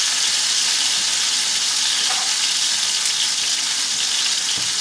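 Chopped tomato frying in a pan with salt for huevos rancheros, a steady close broadband sizzle and hiss running evenly throughout with no talking.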